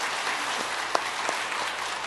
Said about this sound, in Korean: 박수로 환영하며 축복하도록 하겠습니다